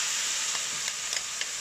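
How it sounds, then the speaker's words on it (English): Pork kidney with sauce sizzles hard in a hot wok during a quick home-style stir-fry, a loud, steady hiss with a few soft scrapes of tossing. "Finally, add the sauce and stir fry for a few more seconds."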